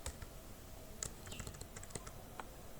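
Steady run of keyboard keystrokes while HTML code is typed on a computer, quick irregular clicks close by over a faint constant background hum, no voices.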